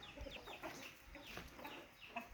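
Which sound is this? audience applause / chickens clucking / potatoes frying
chickens clucking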